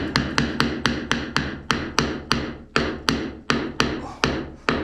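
A hammer drives a nail while the last row of wall tile is fitted, with about fourteen sharp, evenly spaced strikes close by, each ringing briefly, and no voices.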